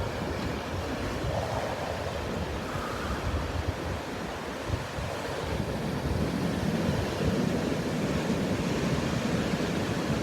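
Water waves washing in outdoors with gusty wind buffeting the microphone, a steady broad rushing roar throughout, close and fairly loud, no voices.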